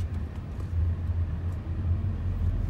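A VW Beetle 1.6 TDI pulls away on the road, its diesel engine a steady low rumble with road noise, close and even for a short stretch.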